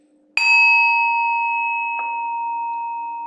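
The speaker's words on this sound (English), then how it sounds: "We're going to have 3 chimes." A meditation chime is struck once and rings out clear and sustained, then struck again about a second and a half later, its pure ringing tone decaying slowly and close with no talk over it.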